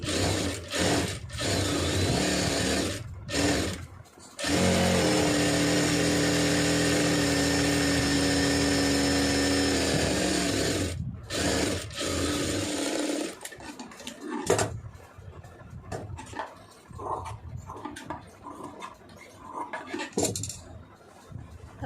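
A sewing machine stitches a folded quarter-inch edge on a neck piece, whirring loudly in bursts that stop and start, with one long steady run, then fading into quieter handling and rustling of the fabric.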